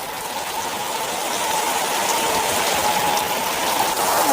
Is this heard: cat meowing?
no